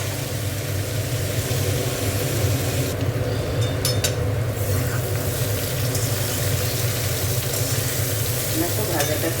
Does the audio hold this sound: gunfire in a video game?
no